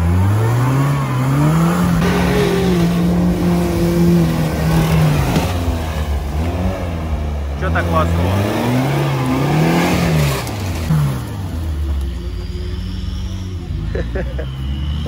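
A UAZ off-road vehicle, fitted with a 409 engine, accelerates hard with a run-up on an autumn off-road outing, its engine revving and rising and falling in pitch up close, with people talking excitedly over the noise.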